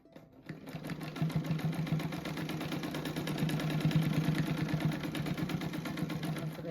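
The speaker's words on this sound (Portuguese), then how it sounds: "aqui eu passo a costura bem encostadinha aqui" A sewing machine stitches along the edge of a fabric rug shaped like a slipper, running in a fast, steady mechanical rhythm after a brief start, close and continuous throughout.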